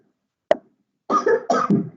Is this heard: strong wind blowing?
no